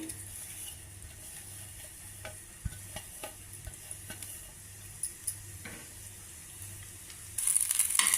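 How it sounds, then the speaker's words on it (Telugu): Small pieces of coconut fry in hot oil in a pan for a coconut mint chutney, giving a steady low sizzle with scattered ticks and stirring clicks, then a louder burst of hiss near the end. "ఆయిల్ వేడెక్కాక ఈ ముందరగా చిన్నగా కట్ చేసుకున్న కొబ్బరి ముక్కలు కొద్దిగా ఫ్రై చేసుకోవాలి"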